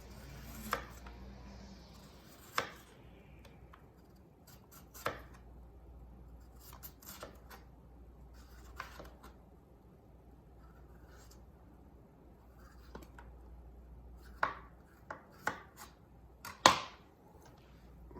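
A kitchen knife strips the skin off plantains for tostones, giving a sparse series of sharp scrapes and clicks. The strokes are irregular and spaced several seconds apart over a quiet background.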